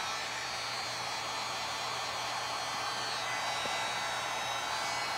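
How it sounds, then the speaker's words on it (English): A hair dryer style blower dries black paint on a DIY window pane, giving a steady, close whooshing hum that runs unbroken throughout with no talking. "Let me dry it one more time and then we'll keep going."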